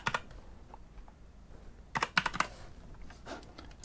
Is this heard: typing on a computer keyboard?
yes